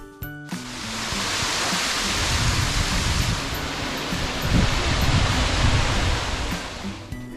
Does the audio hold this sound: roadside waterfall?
yes